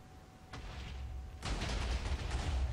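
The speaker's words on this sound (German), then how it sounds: "Oh nein, das Schiff explodiert!" A ship explodes in Minecraft: a rumbling burst of noise erupts, followed by a louder, sustained crackling roar like a blast, mid-distance.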